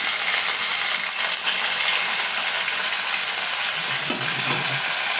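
Washed gongura leaves for an Andhra chutney cook in a pan, giving a steady close sizzle and steam hiss with occasional stirring scrapes, no talk over it.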